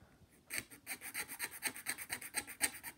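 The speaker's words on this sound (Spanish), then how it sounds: "Con una lima, cola de ratón que le dicen" A rat-tail file rasps against a scale-model wheel rim in steady back-and-forth strokes, a quick, even scraping rhythm that starts after a brief quiet moment.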